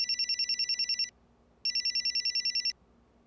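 A telephone rings in two bursts of rapid electronic trilling, each lasting about a second with a short pause between, clear against a quiet background.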